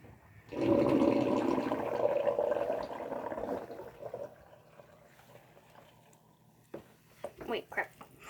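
Water draining from a basin used to wash fidget toys, a loud gurgling rush that starts abruptly, runs for about three seconds, then fades, followed by quieter splashes and handling noises.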